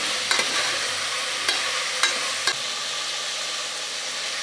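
Eggplant and potato fry in a pan with a steady, close sizzle, broken by a few sharp clicks and scrapes from stirring in the first half.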